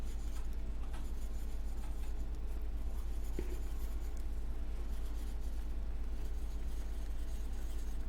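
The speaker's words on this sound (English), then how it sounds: "I have an older woman that I'm drawing on the paper." Quick pencil-style sketch being drawn on paper, a steady soft scratching and rubbing that runs throughout at close range over a constant low background hum, with no talking.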